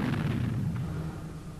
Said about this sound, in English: when gases and air are mixed in the right proportion, this can lead to an explosion